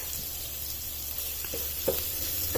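Cumin seeds sizzling in hot oil in a pan, a close, steady frying hiss with a few soft stirring scrapes and no voices.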